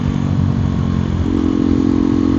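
KTM Duke 390 Gen 3 motorcycle exhaust rumbling steadily up close with a deep, throaty tone, rising slightly in pitch partway through as the engine revs.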